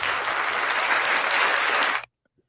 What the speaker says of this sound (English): we all need a round of applause